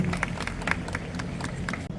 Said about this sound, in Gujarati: જોરદાર તાળીઓના ગણગડાટથી વધાવીશું